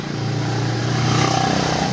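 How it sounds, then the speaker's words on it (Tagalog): A damaged, overheated motorcycle engine with a dirty filter runs weakly, giving a steady, close, low idling drone with a faint uneven rattle throughout. "Itong motor na to, sira na to."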